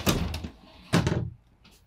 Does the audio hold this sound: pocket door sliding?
yes